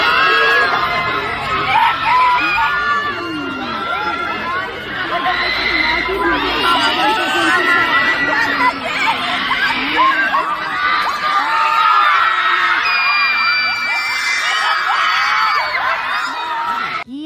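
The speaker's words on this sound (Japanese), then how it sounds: "熱狂的な歓声で迎えられました" Enthusiastic crowd of fans outside a Prada Spring/Summer 2025 womenswear fashion show in Milan, cheering and screaming loudly and continuously, with high-pitched shrieks and chatter layered over one another.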